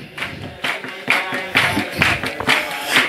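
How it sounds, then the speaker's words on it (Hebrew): An audience clapping hands in rhythmic bursts at a rabbi's talk, steady repeated claps roughly every half second, close and fairly loud, with voices mixed in. "גם למעלה בגיל 60, למחוא כפיים"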